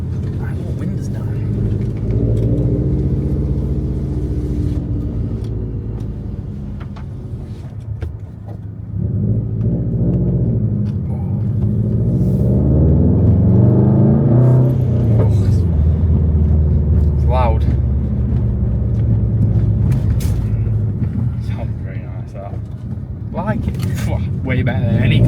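Subaru WRX STI engine fitted with a new intake, revving repeatedly in a deep rumble that rises and falls with pops, heard from inside the car while people talk over it.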